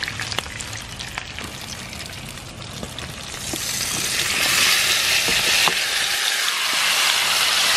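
Tomato goes into a pan of frying iguana, and the steady crackle rises into a louder, dense sizzle that holds for several seconds, with a few stirring clicks and no voices.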